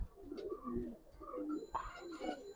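Pigeons coo softly in a few short, throaty phrases, close by and fairly quiet, with no talking.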